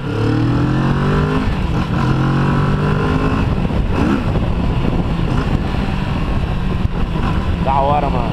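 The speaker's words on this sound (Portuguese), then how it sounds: "Mano, a motoca é violenta, velho." A Kawasaki Vulcan 650 motorcycle on a test ride, its engine roaring loud and close with rising and falling revs under wind noise and a rider talking over it.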